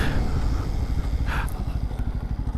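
A Bajaj Pulsar N250 motorcycle being ridden gives a steady, close engine drone with a rapid low thrum, mixed with rushing wind noise throughout.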